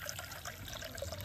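Water poured from a bowl into a cooking pan to make sugar syrup, a soft steady trickle, faint and close, with no talk over it.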